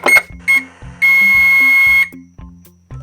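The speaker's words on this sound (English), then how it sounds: "I like how it beeps like that and it goes faster." Electronic beeps from a Boley Just Like Home toy microwave in a pretend kitchen play set: a few short chirps, then one long sustained tone, with soft rhythmic thumps underneath.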